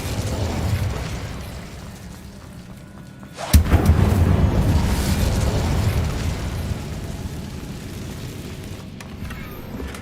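An Incendio fire-spell blast in the Hogwarts Legacy video game erupts as one sudden loud burst midway, following a quieter stretch, then leaves a roaring, crackling fire that slowly fades.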